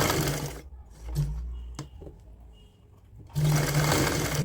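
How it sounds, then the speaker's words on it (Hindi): A sewing machine stitching a woolen pajama for a two-year-old runs in short whirring bursts, a steady stretch at the start, brief pauses and taps in the middle, then resuming, close and clear. "तो अब हम सिलाई करते हैं।"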